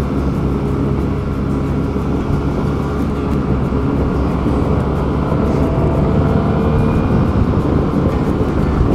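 A Yamaha TMAX530 scooter cruises along the Keinawa expressway in Japan with a loud, unbroken roar of wind and engine that stays steady throughout.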